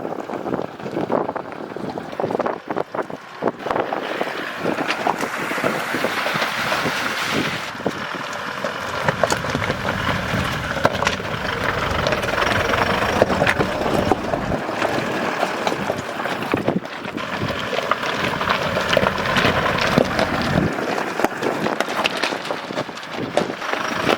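A 2022 Toyota Hilux pickup wading through roughly 700 mm deep water off-road in four-wheel-drive high, giving a steady loud rush and slosh of water with wind buffeting the microphone throughout, no talking.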